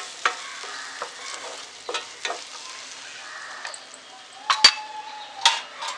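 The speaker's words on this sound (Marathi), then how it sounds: "त्यात मी कांदा आणि टोमॅटो टाकते आणि हे आता आपण छान असं शिजवून घेऊया 2 ते 3 मिनिटं." Onion and tomato fry in a pan for a chicken masala dish, giving a steady soft sizzle broken by scattered spatula stirs and light clinks against the pan, close by.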